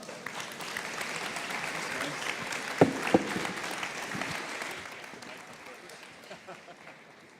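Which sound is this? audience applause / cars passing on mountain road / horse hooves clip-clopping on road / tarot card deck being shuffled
audience applause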